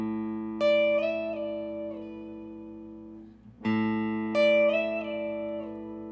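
Electric guitar slide licks on the 5th string, each a struck note gliding up and back down in one smooth motion, played twice with a short gap between, sustained and clear with no talking.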